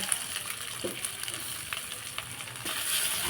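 Mashed potato is stirred into a frying pan with green chilli, a soft ongoing sizzle with occasional scraping and a louder bubbling surge near the end.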